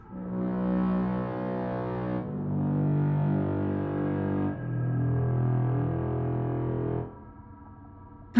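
Descending electronic puzzle tones in the video game Hostil: three sustained, distorted notes stepping downward one after another, then a quieter lingering tone at the end.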